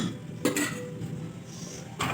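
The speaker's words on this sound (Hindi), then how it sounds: "मैं इसमें डालूंगी थोड़ी ज़्यादा चीनी, 3 चम्मच भर भर के" Heaped spoonfuls of sugar go into a pot of apricot chutney, with a few sharp metal spoon clinks against the vessel and soft scraping between them, close and clear with no talk.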